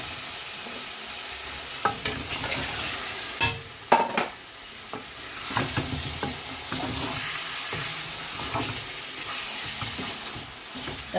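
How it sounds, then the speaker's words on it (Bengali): Fresh karfu fish frying in tomato chutney in a pan, a steady loud sizzle with stirring scrapes and clatters throughout, no talk. "এখন আমি মাছ ছাড়ি দিই।"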